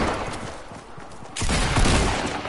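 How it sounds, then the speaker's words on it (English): Fortnite gunfire in a rapid burst that swells into a dense, loud volley in the second half, with broadband cracks layered over one another and no talk. "Where am I getting shot from?"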